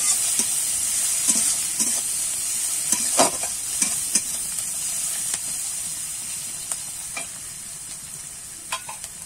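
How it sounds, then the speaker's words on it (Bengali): Chopped onion frying in oil seasoned with five-spice and cumin, a steady close sizzle and hiss with scattered spoon stirs and scrapes against the pan throughout, no voices. "এবারে দিয়ে দেবো পেঁয়াজ কুচি,"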